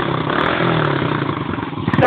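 A big-engined stock motorcycle that still runs noisy rumbles and revs close by in a short burst, with people talking over it.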